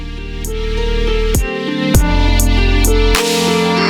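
An electronic song made in Ableton Live is squashed by OTT multiband compression, so it sounds dense and uniformly loud with little dynamic variation. Booming bass runs under bright synth chords and sharp percussive hits that recur at a steady pace.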